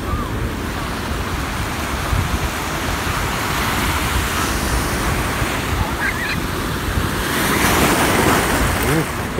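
Rough surf on a Miami beach in Florida roars in a continuous loud wash, swelling near the end, with wind noise on the microphone and faint voices in the background.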